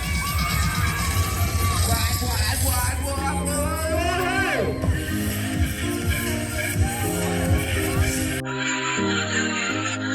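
Crowd cheering and whooping at a freestyle BMX and skateboarding action sports show, loud and continuous under driving music, with voices mixed into the din.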